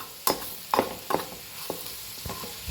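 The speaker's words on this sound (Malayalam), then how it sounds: "ഇങ്ങനെ തന്നെ ജസ്റ്റ് മസാലയൊക്കെ ഒന്ന് മൂക്കുന്നവരെ ഇങ്ങനെ ജസ്റ്റ് ഒന്ന് ഫ്രൈ ചെയ്തെടുക്കാം" Masala for radish curry frying in a pan: a soft, constant sizzle with about five distinct scraping stirs of a spoon at irregular intervals, close and moderately quiet.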